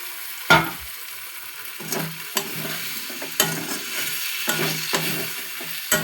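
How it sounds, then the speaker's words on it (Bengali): Potato pieces fry in a pan with salt, turmeric, spices and a little sugar: a soft background sizzle broken by about five scraping stir strokes, close and fairly quiet. "এবার আমি আলুগুলো দিয়ে দিলাম"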